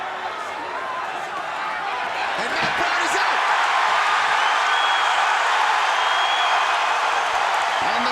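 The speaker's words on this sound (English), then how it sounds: "crowd goes crazy as Matt Browne gets upright and immediately goes on the offensive" A crowd at an MMA fight cheers wildly with a dense, continuous roar that swells and holds loud throughout, while a commentator talks over it.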